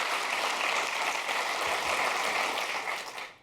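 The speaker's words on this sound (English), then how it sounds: "Thank you very much for that smattering of applause" Audience at a tech conference gives a modest round of applause, a steady close wash of clapping that holds for about three seconds and then tapers off, with no talking.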